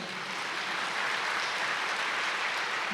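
Audience applause at a spiritual talk, a steady broadband clapping that fills the whole moment at a consistent, fairly loud level with no speech over it.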